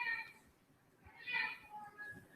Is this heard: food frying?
no